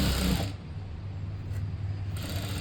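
A sewing machine runs steadily while stitching a blouse, giving a low continuous mechanical whir that sits close and even.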